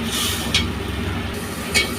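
Spices sautéing in soybean oil in a pan, giving a steady close sizzle and hiss with two brief scrapes of a stirring spoon.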